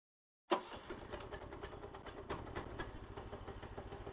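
A small go-kart engine, still not fully warmed up and needing choke, catches and runs at a fast, uneven idle with a rapid pulsing putter, close and alone.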